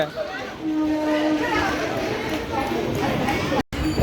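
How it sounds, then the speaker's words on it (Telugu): A MEMU passenger train rumbles and squeals as it slows into a station, a steady loud clatter under the nearby chatter of passengers and people talking. "రే రే రే ఆగుతుందిరా బాబు ట్రైన్ అంతా ఖాళీ"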